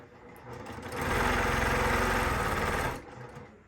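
Sewing machine chain stitching quilt pieces: the motor whirs up, runs a steady, buzzing stitch for about two seconds and then slows to a stop, close and fairly loud.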